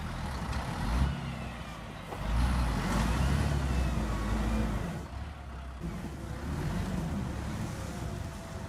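Volvo timber truck labouring off-road in a forest while hauling timber, a loud, continuous heavy engine roar with surging rises and dips in effort, no talk.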